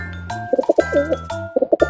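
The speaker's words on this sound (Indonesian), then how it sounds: "burung dara" A pigeon coos in short, soft, rounded notes, repeated in two quick clusters, close and clear with no talking.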